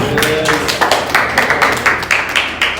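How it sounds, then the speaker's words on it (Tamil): Steady rhythmic clapping from a group, sharp claps repeating quickly and evenly, fairly loud and close, with no talking. "கைத்தட்டு பார்ப்போம்."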